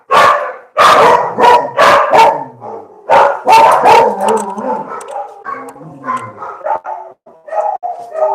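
Dogs barking close and loud in rapid clusters, tapering into quieter yips and whimpering barks toward the end.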